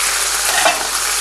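A short burst of loud, dense frying from bacon lardons and shallots in a pan, with a brief stirring scrape partway through and no talking.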